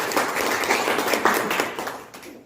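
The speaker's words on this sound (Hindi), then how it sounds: "जोरदार ताली होना चाहिए" An audience applauds at a business event, a dense burst of clapping that fades out toward the end.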